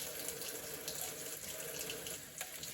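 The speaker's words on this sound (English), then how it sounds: "Run the cold water over it so it gets under the membrane." A cold tap runs steadily, water splashing continuously into a sink at an even, moderate level.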